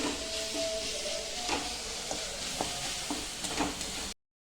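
Chili and garlic sauté in a pan with a soft, steady sizzle and a few stirring clinks and scrapes, fairly quiet and close, ending in a brief silence.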